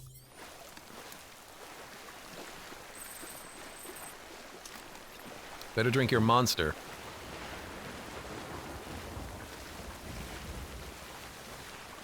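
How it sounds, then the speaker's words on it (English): Sam wades through water in the video game Death Stranding, a steady wash of splashing and rushing water that runs throughout, with a louder burst partway through, under someone talking. "And Sam's getting really tired walking through water."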